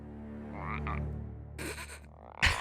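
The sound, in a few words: frog croaking in Avatar The Last Airbender episode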